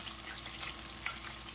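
Chicken wings frying in hot grease, a dense continuous crackling sizzle, steady and close, with no talking.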